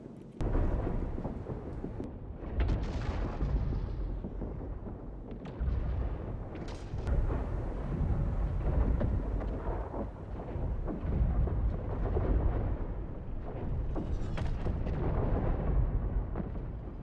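Sustained heavy gunfire and booming blasts from covering fire in the Star Citizen battle, dense and continuous throughout, with rumbling low-end explosions and no talk.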